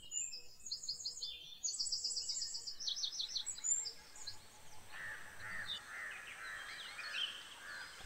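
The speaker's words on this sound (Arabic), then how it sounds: "طيور النمنمة أو التروغلوديت مينيون، طيور مقيمة تتردد كثيرا على الكهوف والأماكن المظلمة، نشيطة مغردة تؤدي زغرداتها بصوت بديع حاد" A wren, a resident bird of caves and dark places, sings in a Moroccan national park forest. It gives bright, sharp, high trilling phrases in quick bursts over steady insect and bird background, moderately near and clear.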